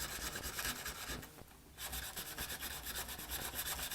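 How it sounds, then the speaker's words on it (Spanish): Sandpaper rubs back and forth over the laser-burnt wooden keel of a model ship in quick, rasping strokes. The sound is close and soft, with a short pause partway through, and no voices. "estamos lijando"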